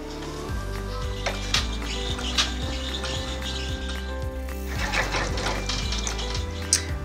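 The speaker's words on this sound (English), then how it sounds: "then we're going to run a tack down stitch" An embroidery machine runs a tack-down stitch on a fabric border panel, a steady, rhythmic mechanical chatter of needle strokes that continues evenly without any voices.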